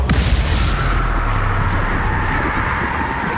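Explosive spell blasts go off in the game Hogwarts Legacy, Confringo and Bombarda bursts making a loud, dense wall of booming rumble that sustains throughout, with a sharper crack near the start.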